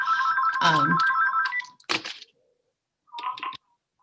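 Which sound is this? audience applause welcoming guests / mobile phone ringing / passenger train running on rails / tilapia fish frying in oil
mobile phone ringing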